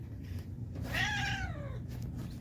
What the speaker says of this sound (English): Cat, why are you so angry?